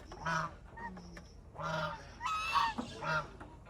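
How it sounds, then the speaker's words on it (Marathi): Ducks at a budget family resort in Nandibaug give a run of loud, honking quacks in separate bursts, close by and clear, with no talking over them. "बदका भारी आहेत ना हे"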